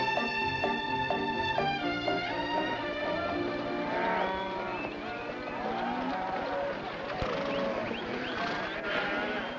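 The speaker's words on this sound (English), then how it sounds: "You got cattle in the back, boss." Several cattle moo over and over from the back of a vehicle, their overlapping calls steady and close, with no voices.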